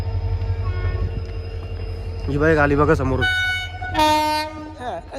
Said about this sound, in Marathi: इंजन वाटतं ही मोठी ट्रेन